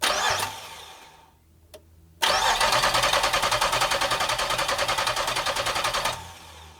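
A Chevy LS engine swapped into a Toyota Celica cranks with a short burst, pauses, then cranks again with rapid rhythmic starter pulses for about four seconds before cutting off, loud and close.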